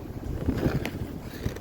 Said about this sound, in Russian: Ветер гудит в облаках, а мы идем.